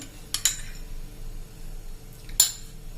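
A pan is set on a gas stove ahead of adding ghee, with two brief metallic clinks about two seconds apart over a quiet, low background hum.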